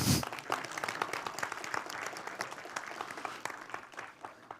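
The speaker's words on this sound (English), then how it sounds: "Big applause for my son here." Applause from a conference audience in a session room, a dense, steady patter of many hands clapping at moderate volume, with faint voices mixed in.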